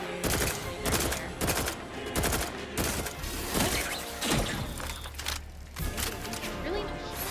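Rocket launcher fire and blasts in the video game Outer Worlds 2: repeated loud, close explosions and gunfire bursts through a chaotic fight, with a voice talking over them.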